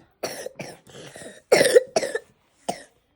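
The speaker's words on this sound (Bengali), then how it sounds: "কি হলো কাশি কেন জল খাবা" A person coughing, a series of about six or seven short, harsh, close-up coughs and throat clears in uneven bursts separated by brief silences, heard alone without other sounds.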